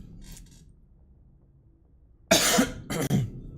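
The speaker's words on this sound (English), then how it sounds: "Trying not to cough in the mic." Two harsh coughs burst out close to the microphone after a quiet stretch, the second following shortly after the first.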